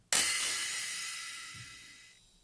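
One ride cymbal strike processed through a grain delay blooms into a bright, hissing wash that sustains and fades gradually over two seconds, heard alone and fairly close.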